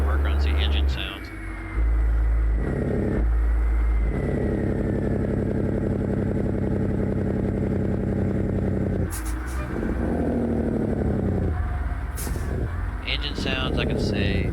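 A heavy truck's engine in American Truck Simulator, a steady low rumble that shifts pitch as it revs and changes gear, with someone talking over much of it.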